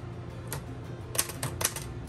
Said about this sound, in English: This typewriter types very crisp letters.